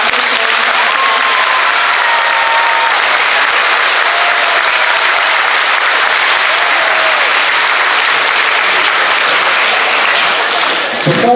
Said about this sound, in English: One more big round of applause for sharing with us